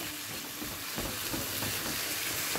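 Minced meat frying in a pan with parsley and coriander, stirred steadily, giving a continuous close sizzle with soft scraping pulses from the spoon throughout.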